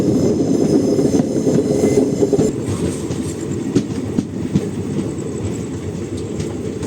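A train leaving Tirunallar station in India toward Peralam Junction rolls steadily along the tracks with a continuous low rumble and rhythmic clatter of wheels, close by and loud throughout.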